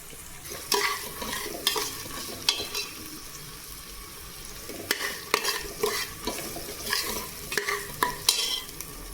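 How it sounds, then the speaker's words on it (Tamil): Mint leaves are sautéed in a pan for veg biryani, a spatula scraping and tossing in repeated bursts over a continuous close sizzle, with no speech. "புதினா ஆட் பண்ணிவிட்டு நல்லா வதக்கிக்குவாங்க"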